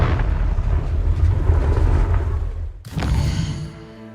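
A Confringo blasting spell explodes in Hogwarts Legacy with a loud, rumbling burst after a steady roar of game sound. It ends in a sharp crack and a ringing tail.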